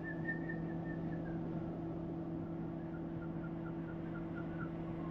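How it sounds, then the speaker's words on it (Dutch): A person whistles a faint, wavering tune at a distance, running thinly over a steady electrical hum for the whole stretch, with no talking. "Oké, daar is iemand aan het fluiten."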